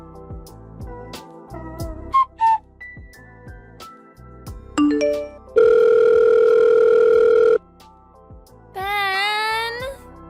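Electronic smartphone tones: short blips, then a long steady beep, then a warbling ring near the end, with music in the background.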